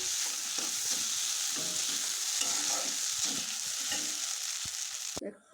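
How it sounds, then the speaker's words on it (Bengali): Chow mein noodles stir-fried dry in a hot pan, a steady bright sizzle running throughout with repeated scraping and tossing knocks from a spatula, close and loud, cutting off abruptly at the end. "চাউমিনটা দিয়ে দিচ্ছি ভালো মতো নাড়াচাড়া করে একটু কষি ভাজা ভাজা করে নিচ্ছি"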